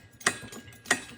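A metal toggle herb press for comfrey salve is locked and pressed, giving two sharp mechanical clicks about half a second apart with softer ratcheting ticks between, close and alone.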